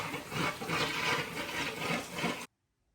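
Dirty water rushes noisily out of a pond filter bypass in a loud, gushing surge, then cuts off abruptly into silence.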